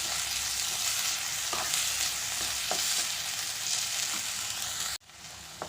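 Tomato and green chili stirred in a frying pan, a steady broad sizzle running throughout with occasional spoon scrapes and clicks, close and fairly loud, cutting off abruptly near the end before resuming more quietly.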